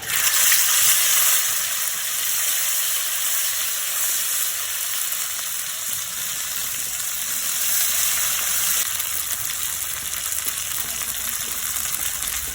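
Ginger and green chili sizzle steadily in hot oil in a pan while vegetable khichuri with Gobindobhog rice is cooked, a loud, even frying hiss that continues throughout.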